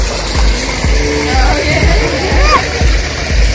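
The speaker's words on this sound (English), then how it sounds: "There's no waterfall, it's just a little stream." A small stream at a wildlife park zoo runs in a continuous close wash of flowing water, with voices speaking over it.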